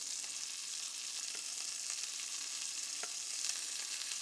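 Meat browns in a hot pan with a steady, fairly soft sizzle and scattered pops and spatters, close and even throughout, nothing else heard.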